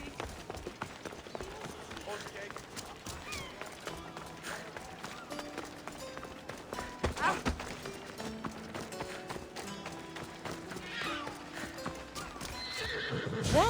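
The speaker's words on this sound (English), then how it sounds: "That's a nice horse, Socrates." A horse in the video game Assassin's Creed Odyssey clip-clops at a steady run and whinnies, its hoofbeats carrying over ambient game music and occasional speech, with the gallop swelling louder toward the end.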